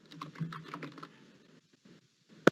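Computer keyboard keys clatter in a quick run of close, soft taps, then a pause and a single sharper keystroke at the end, with no talking over them.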